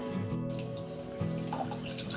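Water is poured from close by onto a cup of sugar in a pan to make syrup, a short, steady splashing trickle.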